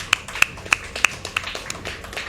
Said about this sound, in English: Before people start clapping.